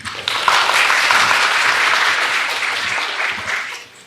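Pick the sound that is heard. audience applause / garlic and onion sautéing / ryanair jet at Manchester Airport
audience applause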